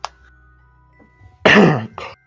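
A single harsh throat-clearing cough, loud and close after a near-silent stretch, followed by a shorter second burst, with no other sound around it.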